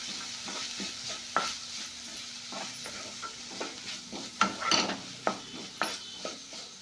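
Legumes (ude bele, a Northern Karnataka pulse) fry in a pan with turmeric, giving a steady close sizzle broken by repeated scraping stirs and light clinks of a spoon against metal; no voices.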